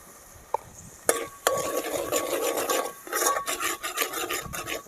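Onions and tomatoes sauté in a pan for a peanut chutney, with a spatula scraping and stirring in repeated rasping strokes over a steady sizzle, close and fairly loud, and a few sharper knocks at the start.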